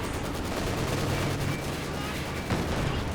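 Katyusha rocket artillery barrage in a Company of Heroes 2 multiplayer match, a dense continuous rumble of launches and blasts with a sharper burst near the end, loud throughout.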